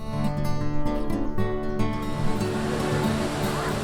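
Steady, broadband rush of a waterfall in São Thomé das Letras, Brazil, loud and continuous with no pauses.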